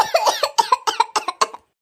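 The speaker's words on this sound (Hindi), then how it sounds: "इतना खांसी आवत बाटा मलकिन के" A woman coughs repeatedly in a quick run of about ten short, harsh bursts, close and loud, ending abruptly.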